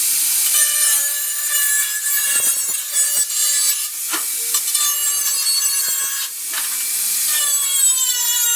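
Saw cutting through a length of material for homemade side skirts on a Mazda RX-8, a loud close rasping with repeated back-and-forth strokes running through the whole stretch, no talk.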